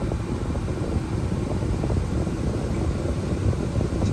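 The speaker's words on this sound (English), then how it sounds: "Now let's try air conditioning" Steady broadband blowing from a car air conditioning fan, a constant airy rush with no breaks and no voices, fairly close.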